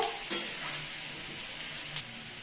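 Potato pieces fry with salt and turmeric in a pan, giving a constant close hiss of sizzling oil broken by a couple of brief stirring scrapes.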